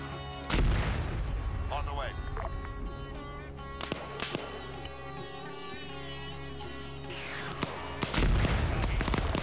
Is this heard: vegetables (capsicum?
no